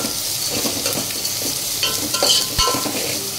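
Ginger garlic paste being stirred into onions frying in a pan, a steady close sizzle with scraping spoon strokes and a few sharper clinks, no talking.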